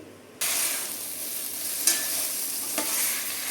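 For paneer biryani, vegetables in a pan burst into a loud, even sizzle after a quiet start, with two brief utensil knocks or stirs partway through.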